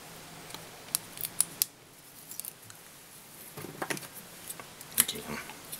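Scissors snip thread while an Ice Maiden bucktail fishing fly is tied, giving several crisp, close metallic clicks in quick, uneven bursts against a quiet background.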